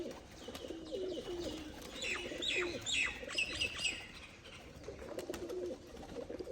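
Pigeons in a loft, old and new birds together, coo and chirp in repeated overlapping calls, moderately close and fairly quiet against a soft background.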